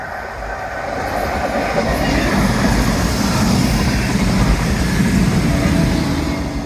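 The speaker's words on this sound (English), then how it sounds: "Happy train." A train rumbles past steadily and loudly along the seafront at Teignmouth, a continuous heavy roar of wheels on rails lasting throughout.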